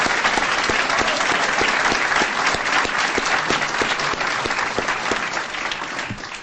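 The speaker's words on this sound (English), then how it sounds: "Let's give an applause for those algebra teams." Sustained applause from an audience at a school board meeting, honoring student algebra teams; steady dense clapping fills the room at full volume, with no talk over it.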